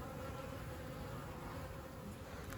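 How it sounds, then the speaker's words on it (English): Worker honeybees hum at the hive in a steady, dense, low buzz that holds at a faint level throughout. "these are all worker bees"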